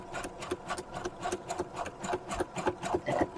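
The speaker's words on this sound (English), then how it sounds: "But again, back stitching that." A sewing machine zigzag-stitches and back-stitches the edge of a wide pocket made from paper napkin, its needle clattering in a fast, steady rhythm with regular accented beats, close and alone.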